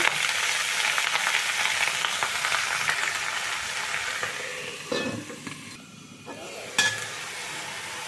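Pumpkin greens with thinly sliced potato fry in a pan with a busy sizzle and stirring scrapes, then the hiss drops off and a single clink of a lid or utensil sounds near the end.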